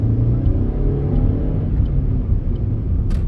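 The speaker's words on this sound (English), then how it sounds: "Nice bit of engine revs" A car engine revs during a driving test route in Hull, a loud, steady low rumble that fills the whole stretch, with no talk over it.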